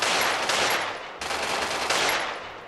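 Gunfire in the video game Free Fire comes as two long dense bursts of loud blasts that each fade away, close and without talk.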